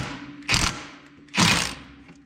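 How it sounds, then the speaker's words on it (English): A 3/8 electric impact wrench loosening a bolt fires two short, loud rattling bursts about a second apart, with quiet pauses between. "I'll move on to my 3/8 electric impact"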